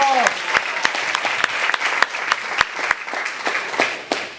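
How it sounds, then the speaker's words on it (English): A seminar audience at Georgia Tech gives a first-time speaker a round of applause: a steady wash of many hands clapping that stays fairly loud and even for several seconds. "Big round of applause."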